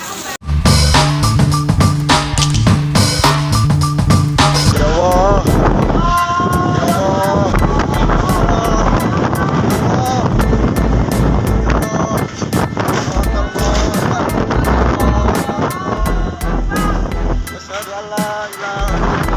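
Strong wind and heavy rain during a tornado storm in Boro Jabung village, Jabung, Malang, East Java, roaring constantly and loudly close to the microphone, with gusts buffeting it throughout.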